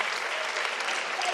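Steady, thick audience applause rewarding a correct answer, a brief full burst of many hands clapping close and even throughout.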